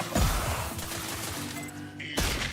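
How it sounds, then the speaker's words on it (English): Gunfire in The Outer Worlds 2, a dense loud fusillade of overlapping shots crackling nearby, then a brief lull and a sharp fresh burst at the end. "he's shooting below us"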